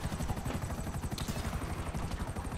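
A helicopter in the GTA 5 Online video game flies with a steady, loud rotor chop and a droning engine whine, continuous throughout and heard alone.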